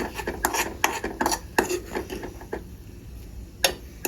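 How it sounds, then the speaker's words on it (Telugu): A utensil scrapes and clinks against a bowl in quick, uneven strokes as a fried mixture is stirred into beaten eggs for an omelette, close and fairly clear with no talking. "పగలగొట్టిన ఎగ్ బౌల్లో వేసి బాగా కలపాలి"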